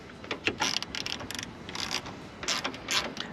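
A ratchet wrench loosens a 10 mm battery terminal on a Ford Bronco, giving bursts of rapid, close clicking in quick, uneven strokes.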